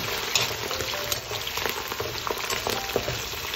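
Pork and potato dish, with long spinach, frying in a pan as it is stirred: a steady close sizzle with small scraping knocks throughout, no talking.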